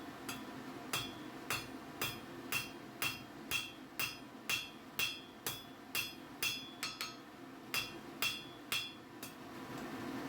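A blacksmith upsets a piece of iron with a hammer, sharp metallic strikes ringing out at a steady pace of roughly two per second, close and clear over a low hum of background.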